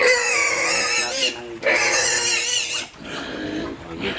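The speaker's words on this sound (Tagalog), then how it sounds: "Wet feeding kasi yung ginagawa niya sa ating mga baboy." Pigs squeal and grunt loudly in repeated bursts during wet feeding with mixed feeds and corn, close by and alone.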